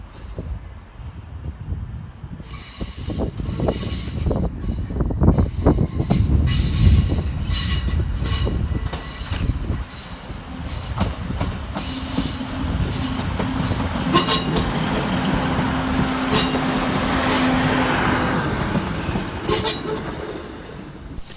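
A Northern passenger service from Chester pulls into Manchester Piccadilly station, loud rumbling wheels and squealing brakes under the station roof, with a long sustained squeal as the train slows, steady and continuous with no talking.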